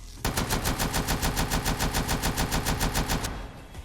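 Fast, steady burst of automatic gunfire from a 7.62 NATO rifle in the tactical shooter video game Due Process, roughly twenty loud shots in an even rhythm that stop abruptly, with no talking.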